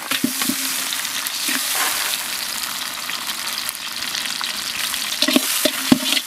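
Onions and tomatoes fry in a pan for a village-style mushroom biryani, giving a continuous close sizzle broken by a few sharp scrapes and knocks of stirring.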